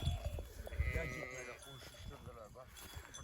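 A sheep bleats several times close by in a rural setting, a wavering call over background noise, with a bell clinking faintly at times.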